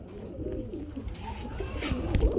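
Soft, low pigeon coos at a pigeon farm, a few murmuring calls rising and falling close by over a quiet rumbling background.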